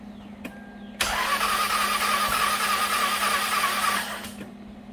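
A Lexus ES 300 engine cranks steadily for about three seconds with a whirring starter drone but never catches, then cuts off.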